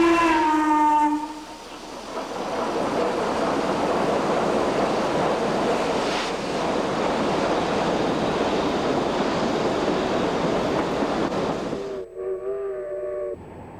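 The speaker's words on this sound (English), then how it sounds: "Watch the mammoth Norfolk and Western 1218 as it works its way through the Rat Hole" Norfolk and Western 1218, a large steam locomotive, working through the Rat Hole: a whistle blast opens, a loud sustained roar and rumble of the train follows, and another whistle sounds at the close.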